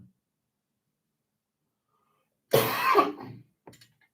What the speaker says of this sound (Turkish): Dün akşamdan beri sinirden öksürüyorum ya.